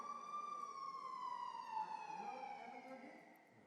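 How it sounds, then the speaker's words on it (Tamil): Police siren effect played at an awards show stage event: a single wailing tone that slides slowly downward and fades, fairly faint and heard alone. "என்னடா சைரன்லாம் கேட்குது?"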